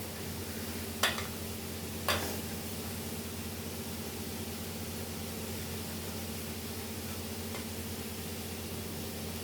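Onions fry in a pan with a steady, even sizzling hiss over a low hum, close and moderate in level. Two sharp clicks break in near the start.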